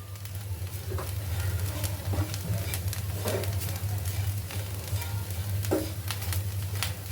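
Grated coconut roasting in a pan until reddish, a continuous close sizzle with scattered scraping stirs and clicks of a spoon, steady and moderately loud over a low hum, no talking.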